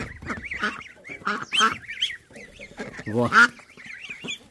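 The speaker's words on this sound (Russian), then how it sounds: "Вот эти крякалки, которые водят малышню, самые нервные" Nervous mother ducks leading ducklings, letting out several loud, harsh honking quacks in irregular bursts close by, with a brief spoken word in between.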